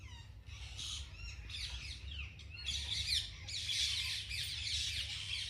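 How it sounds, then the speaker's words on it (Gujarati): Many parrots perched in a neem tree in front of a village house squawk and chatter, a dense overlapping flock chorus that builds steadily, somewhat distant and with no talking. "જો બહુ બધા પોપટ આવીને અહીંયા લીમડા ઉપર બેસે છે મસ્ત."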